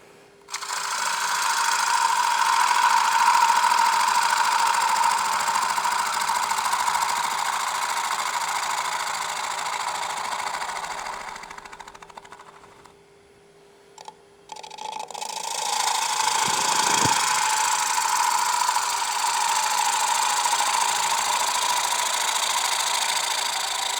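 A wood lathe spins a workpiece in production turning while a spindle detail gouge cuts, giving a steady droning whir that fades out briefly midway, then resumes at full strength with no talking.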